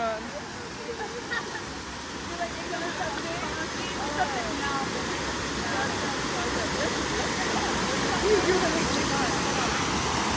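Water rushes and splashes continuously at the Trevi Fountain in Rome, a broad steady roar with the murmur of a crowd beneath it.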